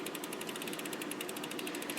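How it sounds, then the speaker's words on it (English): Bicycle chain freewheel ticking as the pedals are turned backward while a cloth grips the lower chain, a fast even run of close, crisp clicks. "I'm going to just loosely grip my chain with this cloth and start backpedaling"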